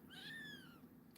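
A kitten lets out a single short meow that rises and falls, fairly quiet and close, in a quiet indoor room.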